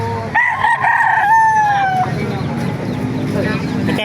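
Roosters crow loudly and close at a busy chicken market, with a long drawn-out call standing out over a din of clucking birds, crowd noise and voices talking throughout.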